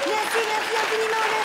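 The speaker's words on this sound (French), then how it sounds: "mérite bien quelques applaudissements" A studio audience applauds on a French television show, a brief steady burst of clapping with a tonal musical line running beneath it.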